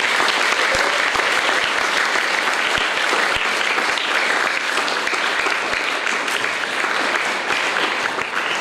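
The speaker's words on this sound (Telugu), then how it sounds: "ఇది క్లాప్స్ కొట్టండి ఒకసారి గట్టిగా." Loud, sustained applause from a Children's Day celebration audience, dense steady clapping filling the whole stretch with no break and a few sharper individual claps standing out.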